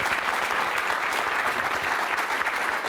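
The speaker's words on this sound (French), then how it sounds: "Et on applaudit Martin Fourcade" A crowd of about fifty supporters at a fan meeting with biathlete Martin Fourcade gives loud, continuous applause, a dense wash of clapping sustained for several seconds without speech.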